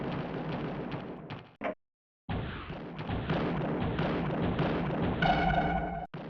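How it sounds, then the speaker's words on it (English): Heavy weapons fire in the MechWarrior video game, a Gauss rifle and missiles launching in a battle: loud, dense booming blasts and rumbling bursts that cut out briefly and then resume continuously. "So I'm just using this Gauss rifle and these missiles."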